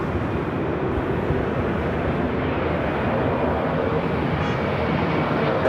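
Delta airliner engines roar during takeoff at LAX, a loud, steady broadband rumble holding throughout with no pause or talk.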